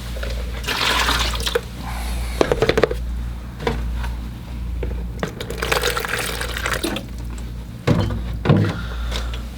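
Tap water runs and splashes as a container is filled with fresh water for watercolor painting, a close gurgling flow with a few knocks and clinks of the container.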